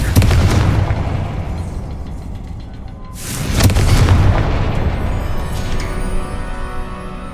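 Two loud booming blasts of the Confringo explosive spell in the video game Hogwarts Legacy, each a sharp burst followed by a rumbling decay, the second landing a few seconds after the first.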